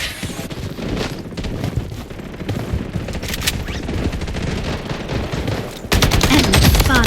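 Sustained bursts of RPK machine gun fire in the video game Blood Strike, rapid close shots rattling continuously with booming impacts, intensifying into a denser volley near the end.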